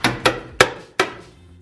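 Four sharp hammer strikes ring out close and loud at an uneven pace, each a crisp hit that decays quickly, with no voices.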